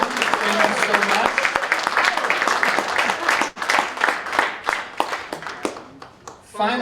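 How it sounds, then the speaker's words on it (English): An audience at a high school awards ceremony claps for parents, guardians and supporters: dense, sustained applause with sharp individual claps that thins out toward the end. "a big round of applause for the parents, guardians, other supporters that are here for you"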